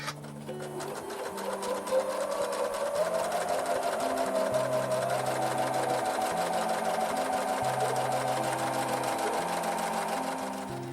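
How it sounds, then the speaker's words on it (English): A sewing machine stitches a scant quarter-inch seam down the sides of fabric strips for half square triangles, running as a steady, continuous mechanical whir from start to finish. "I will now take a couple of these strips up to the sewing room and sew a scant 1/4 inch seam allowance down each side."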